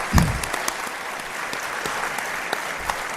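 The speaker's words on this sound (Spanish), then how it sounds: "Un aplauso os pido para este gigantón guanche." Audience applause for a guest on a Canary Islands stage show, a dense steady clatter of many hands with a louder burst at the start, sustained evenly to the end.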